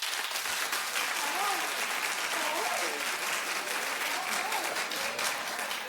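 Sustained applause from a talk-show studio audience, dense and steady, with voices faintly audible underneath.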